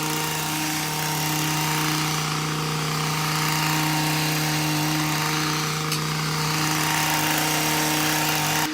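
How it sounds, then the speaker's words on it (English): A garden tiller's motor runs steadily at close range while a lawn is prepared for St. Augustine sod, a loud, constant droning hum with a strong low tone that holds unchanged the whole time. "hopefully you guys can hear me over the motor of the tiller there"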